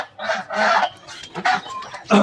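Chinese geese kept with white turkeys on a small hobby farm: several loud, close honks in quick bursts, with short gaps between calls.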